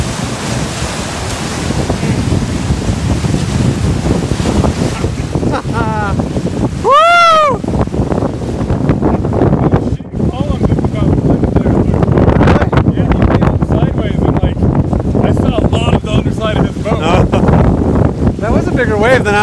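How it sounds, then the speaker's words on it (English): Churning river rapids and waves slap around a raft in Cataract Canyon, Utah, a loud steady wash with wind buffeting the microphone throughout and a brief whoop or shout partway through. "bigger wave than I was expecting"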